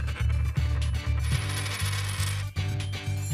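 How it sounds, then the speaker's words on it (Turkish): A small coin tossed for heads or tails rings and rattles as it drops and spins, with a string of quick metallic bounces and wobbles that settle over a few seconds. It is close and clear, with no voices. "Yazı tura atalım."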